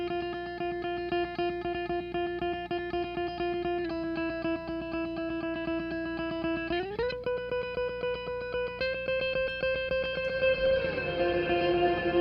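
An electric guitar is tremolo picked dry, with reverb and delay switched off, a rapid steady stream of repeated notes holding sustained pitches that shift to new chords several times, clean and close.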